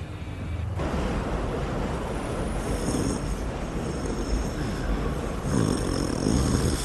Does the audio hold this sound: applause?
no